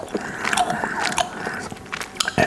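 Gum chewed close to the microphone for ASMR, wet smacking and clicking bites in an irregular rhythm, loud and intimate with no talking.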